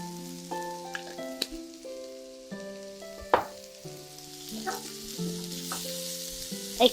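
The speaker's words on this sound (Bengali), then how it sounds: "একটু ভেজে নিব" Ground black pepper frying in a pan for a bread ball recipe, a soft steady sizzle under a stepping musical melody that stays in front throughout.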